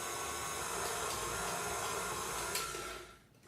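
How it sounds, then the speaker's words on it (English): A stand mixer runs on low speed kneading pizza dough, giving a steady, continuous whirring hum that stays level before easing off at the end. "take it over to your mixer. Pop it on low speed for about 8 minutes"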